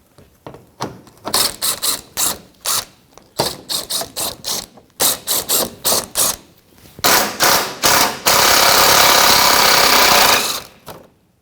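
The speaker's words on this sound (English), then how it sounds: "So 10 millimeter socket, let's just start taking the bolts out." Ratchet and 10 mm socket backing oil pan bolts out of a 2014-2019 Toyota Corolla 1.8L four-cylinder, heard as loud, close bursts of rapid clicking in repeated strokes, ending in a longer sustained run with no talking.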